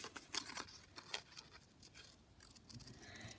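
Scissors cut out a small paper circle tag for a bird-themed notecard, producing quiet close snipping and rustling paper sounds in short irregular bursts.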